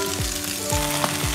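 Egg and winged beans stir-fry over high heat in a hot pan, a dense continuous sizzle broken by a few quick scraping strokes of the spatula.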